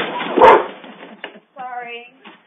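A dog being picked up by its owner gives a sharp bark followed by a drawn-out whine or yelp, close and loud, with brief background noise around it.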